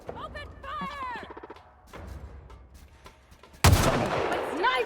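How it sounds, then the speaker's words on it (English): Gunfire in the video game The Outer Worlds: a sudden loud burst of shots erupts late, after quieter game sounds and some voices talking, and continues in a noisy barrage. "Open fire!"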